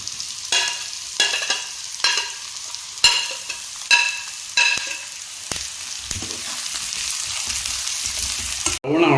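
Onion goes into a frying pan already holding green chillies, with a run of sharp, evenly spaced spatula scrapes and clanks over sizzling oil, then a steadier frying hiss.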